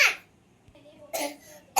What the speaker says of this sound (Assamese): ইমান কাহ আছে